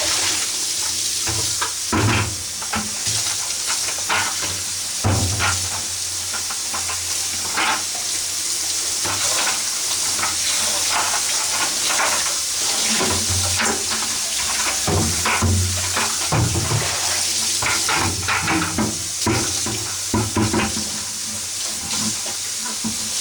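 Black Procion reactive fabric dye for jeans is poured out into a bucket, a continuous close splashing stream of liquid with gurgling surges throughout.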